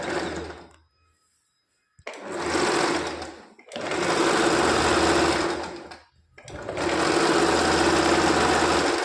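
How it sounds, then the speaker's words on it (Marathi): A sewing machine stitches the band of a three-piece princess-cut blouse in three rapid bursts, each a dense, even whirring run separated by short silent pauses, loud and close. "बाहेरच्या बाजूने दुमडून त्यावरती एक दाब स्टिच टाकायची."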